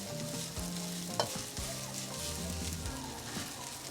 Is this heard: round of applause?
no